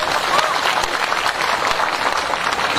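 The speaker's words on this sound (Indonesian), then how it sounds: "Taniah dan tepuk tangan untuk beliau dulu Bapak Ibu sekalian" A crowd at an Islamic boarding school gathering claps loudly and continuously, a dense, sustained round of applause close by.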